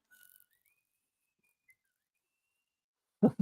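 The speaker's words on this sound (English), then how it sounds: "Sorry, I'm not a very good whistler." A thin, faint whistle of a short melody from the original Star Trek series, wavering and quiet, followed after a pause by a brief burst of voice.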